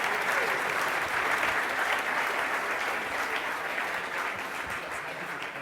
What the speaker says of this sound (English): Give a big applause and thanks a lot for being here for us this day